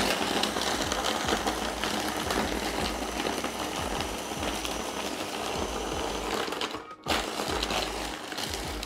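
A blender whirs steadily with a loud, dense mechanical grind as it blends a Tia Maria mudslide over ice, continuing almost unbroken for about nine seconds with one brief dip near the end.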